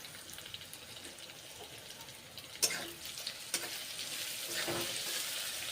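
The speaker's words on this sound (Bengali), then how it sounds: "বেশ ভাজা ভাজা করে রান্না করছি পটলের এই রেসিপি" Pointed gourd (potol) with green chilies frying in a pan, a quiet sizzle with a few sharp spoon scrapes and stirs, close by and fairly faint, a soft hiss swelling toward the end.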